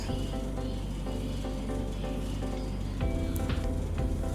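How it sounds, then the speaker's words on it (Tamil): Fenugreek and onion fry in oil for nonbu kanchi, giving a soft, steady sizzle with faint crackles, a little louder toward the end. "இது நல்லா பொரியட்டும். இப்போ இது கூட நம்ம கட் பண்ணி வச்சுருந்த வெங்காயத்தை சேர்த்துக்கலாம்."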